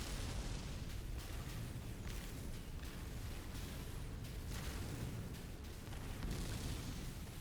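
A weapon blasting rocks in No Man's Sky, heard as a dense, continuous roar of rapid explosive bursts and crumbling impacts that stays loud and unbroken throughout.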